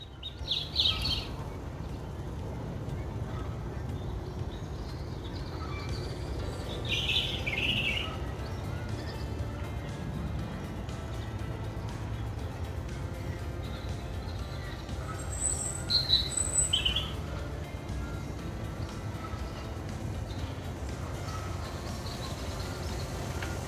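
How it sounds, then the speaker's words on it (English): Birds chirp and sing in scattered bursts over a low, steady outdoor rumble in a wetland with reed beds, some calls near and others distant. "listen to all the birds"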